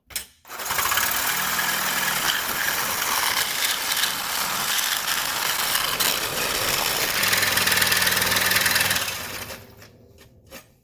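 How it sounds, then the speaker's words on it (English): A saw cuts through the exhaust flex pipe of a Ford Explorer, making a loud, steady buzzing whine that runs almost unbroken for about eight seconds before tapering off. "full throttle on the saw is not a good idea"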